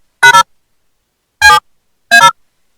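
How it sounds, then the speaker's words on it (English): Three short bursts of DTMF telephone-style tones encode stored audio data, each a crisp dual-tone beep separated by silence, the first one doubled. "It is in a DTMF codification."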